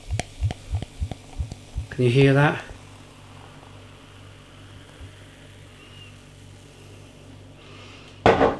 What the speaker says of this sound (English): The quality of that pour, that kind of glug, glug, glug, I love it.